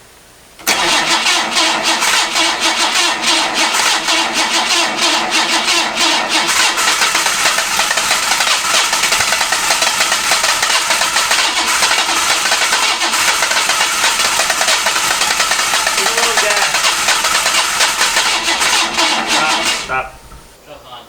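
A Datsun 260Z that has sat unused for 16 years cranks and catches, then runs loud and steady at a rough idle for nearly twenty seconds before being shut off, with voices talking over it.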